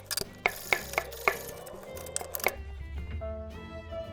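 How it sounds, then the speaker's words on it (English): Vegetables for a prawn pasta stock are chopped on a board with a knife, giving about seven crisp, evenly spaced thuds close up, followed by a few softer taps and lower rumbling handling noise. "we're just going to quickly chop up the vegetables on the side"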